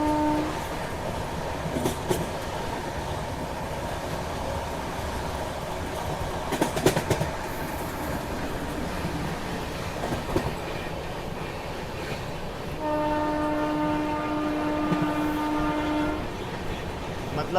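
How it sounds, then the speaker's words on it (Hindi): The Ananya Express passes on Indian rails with continuous wheel rumble and clickety-clack, a few sharp clanks midway, and a sustained horn blast near the end, loud and close throughout. "ये देखिए अनन्या एक्सप्रेस।"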